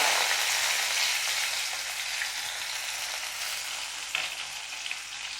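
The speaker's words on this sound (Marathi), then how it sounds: "तेल गरम झाल्यानंतर प्रथम जिरेची फोडणी देऊयात जिरे तडतडले की" Cumin seeds sizzling in hot oil for a tempering give a dense, steady, close hiss that eases slightly over time, with a few crackles toward the end.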